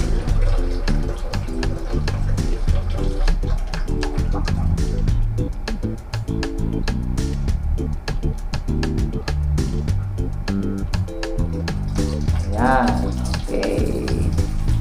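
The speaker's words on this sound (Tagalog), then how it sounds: "Buksan natin itong shower." A shower is switched on and water runs steadily throughout, partly masked by continuous background music and someone talking.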